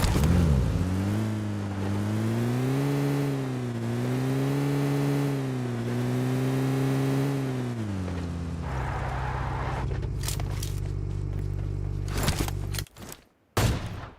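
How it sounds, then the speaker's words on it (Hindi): A vehicle engine in PUBG Mobile revs steadily and loudly while driving for several seconds, then gives way to scattered bangs and clatter. "तो फिर मैं अपनी गाड़ी उठाता हूँ और बढ़ता हूँ आगे की तरफ।"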